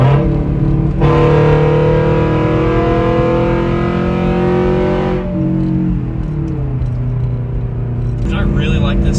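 A Scion FR-S fitted with a full bolt-on exhaust accelerates hard on the interstate, its engine drone rising steadily in pitch through a gear before dropping at a shift. The exhaust sound is loud and close, heard from inside the car.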